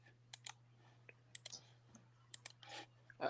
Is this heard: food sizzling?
no